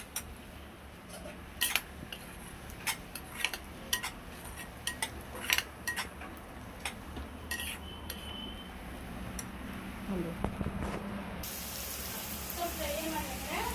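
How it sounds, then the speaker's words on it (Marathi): Onion frying in a pan until browned, heard as a soft continuous sizzle with frequent sharp clinks and taps of a utensil against the pan, fairly close and moderately quiet. "कांदा छान लाल होईपर्यंत भाजायचा"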